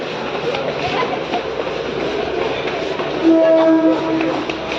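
A local train pulls away from Diva station, its low rumbling roll filling the platform, with a brief metallic squeal late on and faint voices in the busy station ambience.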